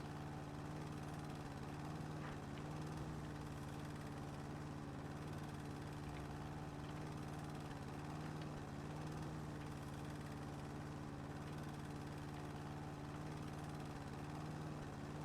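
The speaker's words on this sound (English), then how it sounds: "they've fixed it so that you can just mow it all if you wish" A lawn mower running in the video game House Flipper, a steady, even engine drone with a low humming tone that holds constant throughout at moderate loudness.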